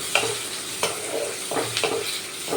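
Ridge gourd fries in a pan, sizzling steadily up close, while a spatula scrapes and stirs it in several distinct, rhythmic strokes. No speech.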